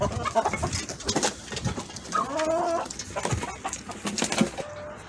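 Chickens cluck and a rooster calls nearby, with scattered bird chatter over a quiet outdoor background.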